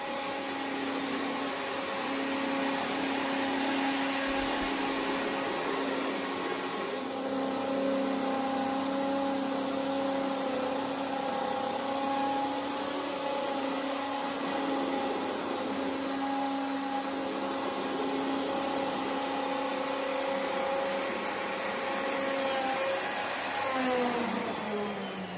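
A router sled cuts on a surfacing jig in a workshop while its dust-extraction vacuum runs, giving a loud, steady roar with a whining motor tone that holds for the full length of the recording.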